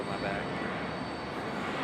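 Airliner departing Charlotte Douglas International Airport, a steady broadband jet roar heard from a distance, continuous and even throughout.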